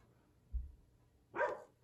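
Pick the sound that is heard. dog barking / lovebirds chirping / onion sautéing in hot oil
dog barking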